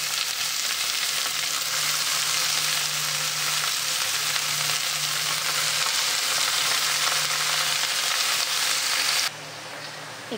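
Chopped greens frying in a pan with onion, garlic, chilli and black cumin, a loud continuous close sizzle that runs almost the whole time and then drops sharply near the end.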